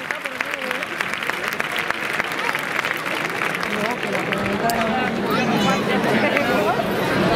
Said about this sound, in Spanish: fortísimo aplauso para ellos